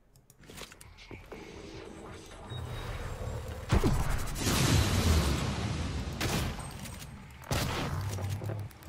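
Shotgun fire in the Prey video game, a few heavy booming blasts amid mechanical clatter and footsteps, with a voice talking intermittently underneath.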